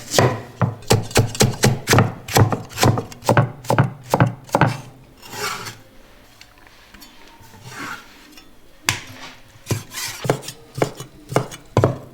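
Quick, rhythmic cleaver chops thud on a wooden board in fast bursts, mincing pork and radish filling, pausing briefly, then resuming; close and loud, with no talking.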